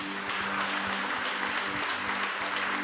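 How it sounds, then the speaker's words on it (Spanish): Church congregation applauding during a worship service, continuous crowded clapping at a moderate distance over a low steady hum, with no pauses across the short stretch. "Denle un aplauso al Señor."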